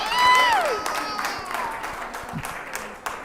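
Audience applause and cheering at a city council meeting in Flint, a crowd clapping steadily for a few seconds with voices mixed in.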